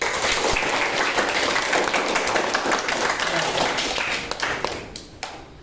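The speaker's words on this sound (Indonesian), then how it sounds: "kita berikan aplaus untuk semua kelompok" Classroom applause for the presenting groups in a pharmacology lesson, a dense, loud patter of many hands clapping together that thins out and fades toward the end.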